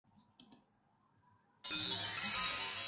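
A PowerPoint slide transition sound effect starts abruptly after a couple of soft clicks, a bright, loud rushing swish that holds steady to the end.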